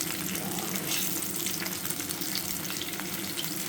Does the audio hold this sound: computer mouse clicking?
no